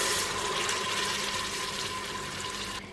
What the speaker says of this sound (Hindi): मिक्स करने के बाद हम इसके अंदर हाफ ग्लास पानी डाल देंगे